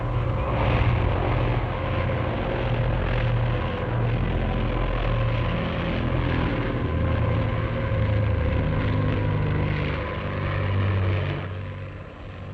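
Propeller engine of an aerobatic biplane flying inverted over countryside, a steady loud drone holding throughout with slight swells and dips in intensity, no voices.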